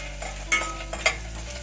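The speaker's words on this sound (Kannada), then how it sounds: "ಇದನ್ನೆಲ್ಲ ಸ್ವಲ್ಪ ಫ್ರೈ ಮಾಡ್ಕೊಳ್ಳೋಣ" Curry leaves and dried red chillies fry in hot oil in a home kitchen, giving a soft sizzle broken by a few sharp spoon-against-pan stirs.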